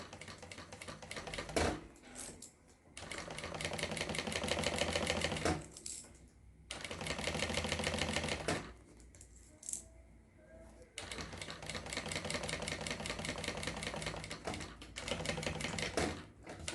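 Domestic sewing machine stitching a zippered notebook cover, starting with a backstitch: fast rattling mechanical bursts running in several long runs with short pauses between, close and fairly loud, with no talking.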